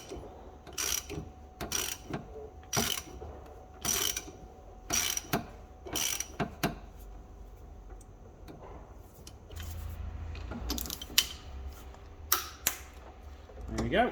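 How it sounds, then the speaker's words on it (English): A hand ratchet torques the oil filter on an Abarth 695 XSR, giving several short bursts of rapid clicking, close and crisp, with pauses between strokes and quieter workshop noise in the gaps. "Tighten up the oil filter, make sure you do it to spec and torque it up."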